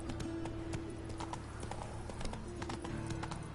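A horse in a video game gallops with steady, rhythmic clip-clop hoofbeats close up, layered over a constant game soundtrack hum with no voices heard.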